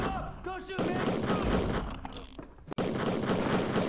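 Bursts of loud electronic gunfire from an arcade shooting game running on MAME, played with a Wii remote, fire rapidly over several seconds, with a sharp cutoff near the end.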